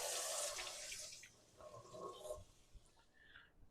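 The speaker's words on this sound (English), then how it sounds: "So now we're going to rinse this off twice to get off all that nasty bleach." Running water from a faucet rinses bleach off mead-making equipment, a steady splashing rush that is loud at first and then eases into gurgles and drips.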